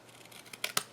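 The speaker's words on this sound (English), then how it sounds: "I'm just going to snip the edges of this." Scissors snip along the edges of decorative paper for an envelope, a few quiet crisp cuts bunching toward the end, the last two sharpest and loudest.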